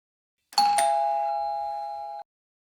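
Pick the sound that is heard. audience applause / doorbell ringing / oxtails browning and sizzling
doorbell ringing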